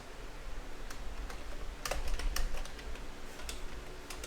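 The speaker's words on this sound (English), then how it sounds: "here I'm going to type in this" Keys clatter while text is typed into an Excel spreadsheet. Scattered, uneven clicks come up close over a low steady room hiss, with a brief quicker burst in the middle and no speech.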